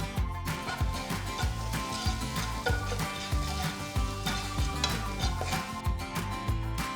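Chopped onions and green chillies sauté in a pan with turmeric and salt, a steady sizzle broken by regular rhythmic scrapes of a spatula stirring, close up with no talking.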